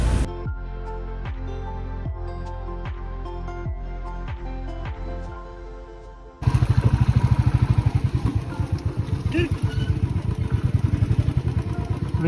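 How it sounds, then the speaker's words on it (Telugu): A two-wheeler motorcycle passes on a road near Bogatha Waterfalls in Telangana. Regular ticking clicks lead into a sudden loud, close engine rumble with a rapid pulsing beat that holds to the end. "2 వీలర్ వెళ్తుంది."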